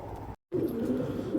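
Racing pigeons coo in low, continuous murmurs around a big-winged hen, broken by a brief moment of silence before the soft throaty calls resume.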